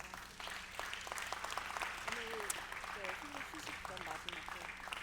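A church congregation at a young adults' worship service applauds together, a continuous steady clapping with voices talking over it and fairly faint overall.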